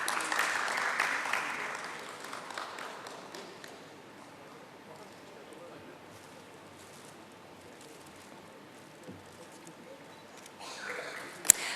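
An audience claps at a corporate stock-exchange listing ceremony for AGI Infra Limited. The applause is loudest at the start, then thins to a softer, steady patter that continues for several seconds.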